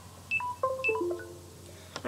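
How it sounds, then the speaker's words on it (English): A phone chimes a short melodic charging notification, a quick cascade of bright descending tones at close range, with a soft tap or clunk just after. "so that was just my phone charging"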